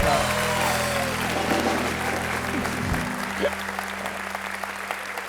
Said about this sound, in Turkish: bir alkış daha şu gülen yüzüne